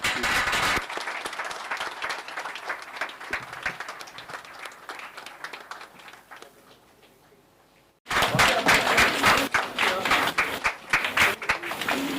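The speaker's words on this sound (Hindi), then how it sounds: "तालियां बजती रहनी चाहिए।" Audience applause at a Jain Agarwal Vaishya directory distribution and honours ceremony, loud steady clapping that thins and fades to near quiet, then bursts back in full and sustained.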